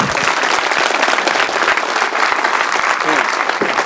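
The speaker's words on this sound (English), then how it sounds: "Hey, another round of applause." A conference audience gives a loud, sustained round of applause, many hands clapping densely and close, with a few scattered voices underneath.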